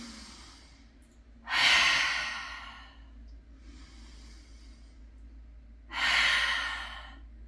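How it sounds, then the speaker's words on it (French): Slow, deep breaths during a morning yoga session in downward dog, drawn in through the nose and released through the mouth, with two loud airy exhales and softer inhales between them, close to the listener and without talk. "Tu peux inspirer par le nez. Expirer par la bouche."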